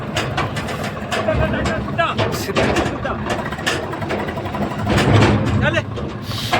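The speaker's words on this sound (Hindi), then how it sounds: "बैक कर रहा है ट्रैक्टर को" A tractor on a farm backs up while pulling a trolley loaded with about 60 quintals of sugarcane. Its low engine rumble and clatter run under loud, close talking from several people.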